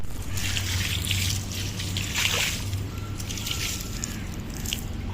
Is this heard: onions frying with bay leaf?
no